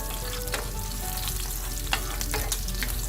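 Garlic cloves frying gently in oil over lowered heat for a Chettinad prawn masala, giving a steady, close, continuous sizzle with a few faint stirring clicks.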